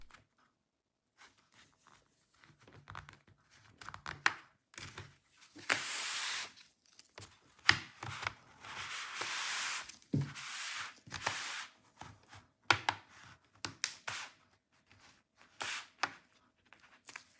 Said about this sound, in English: Using a thin plastic tool, we begin releasing the retaining clips around the panel.